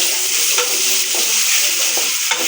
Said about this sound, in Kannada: ಇವಾಗ ಆನಿಯನ್ ಆ್ಯಡ್ ಮಾಡಿ ಇದನ್ನು ಫ್ರೈ ಮಾಡಬೇಕು.